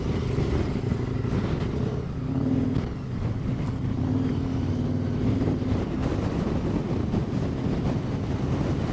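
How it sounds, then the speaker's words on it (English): Wind buffeting the microphone on an adventure motorcycle ride on Thomson Gorge Road in New Zealand, a continuous low roaring rumble with gusty swells, steady and close throughout. "It's still windy."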